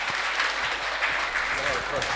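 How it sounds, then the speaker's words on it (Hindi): An audience at a conference gives a renewed round of clapping after a dance performance, dense and steady for the whole stretch, with a voice faintly under it. "एक बार जोर से तालियां हो जाए दोबारा"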